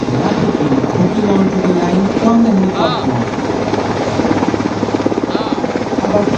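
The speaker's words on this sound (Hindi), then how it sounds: "there is a seeking helicopter circling the perimeter to provide air cover to the slithering commandos" An Indian Navy helicopter circles during a commando slithering demonstration at a city parade, its loud rotor thudding and engine whine steady throughout while an announcer talks over a public address.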